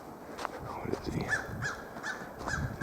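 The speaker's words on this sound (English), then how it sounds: "Friggin' blackbird. Noisy. I don't like noisy ass birds." A blackbird calls repeatedly from a tree on a winter nature walk in a park, giving several short harsh squawks spaced about half a second apart, moderately close over faint background noise.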